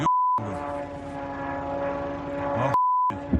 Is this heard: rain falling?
no